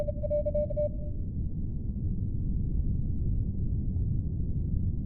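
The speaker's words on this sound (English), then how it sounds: "They're using Morse code to communicate as of right now." A brief steady electronic tone like a Morse code beep sounds for about a second at the start, then fades into a low rumbling static hiss that carries on alone.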